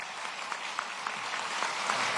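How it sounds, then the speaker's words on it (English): Brief, moderate audience applause at a police-community relations awards ceremony honoring Captain Beam, a continuous patter of many hands with no talking. "Give Captain Beam a round of applause"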